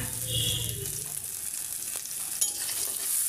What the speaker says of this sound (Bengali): এখন ভালো করে একটু নেড়ে চেড়ে নিব